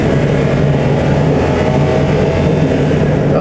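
A red 1970 Mercedes 280 SL Pagode accelerates hard, heard from inside the cabin as a loud, continuous engine roar mixed with road and wind noise, with no pauses.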